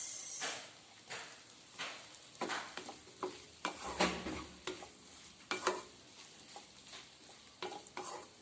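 A spoon stirs garam masala through vegetable kurma in a pan, giving a run of scraping strokes over a soft sizzle, close and fairly quiet, with no talk.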